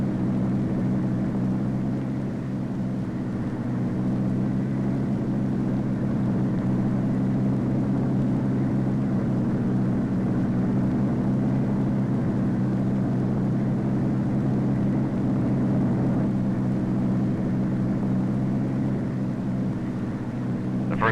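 A Convair model 7002 research airplane taking off produces a loud, steady engine roar that holds evenly for about twenty seconds, a broad, continuous rumbling drone with no other sounds above it.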